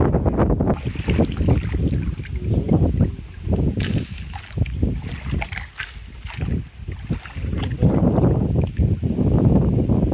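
A rowing boat moves under oar power on the deep, wide Toa River, with steady water wash and strong wind buffeting the microphone throughout, close and fairly loud.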